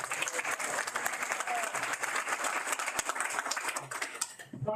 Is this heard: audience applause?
yes